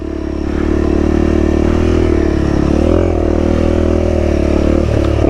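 A Honda CRF300L fuel-injected 300 cc dirt bike rides hard offroad. The engine drones loud and steady as a low thrum throughout, with small pitch swells as the throttle shifts, and clatter over rough ground.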